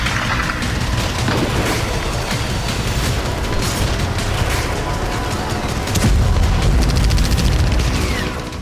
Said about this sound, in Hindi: स्वेदा में कबीलाई लड़ाके आरपीजी से फायर कर रहे हैं, गोलियां बरसाई जा रही हैं।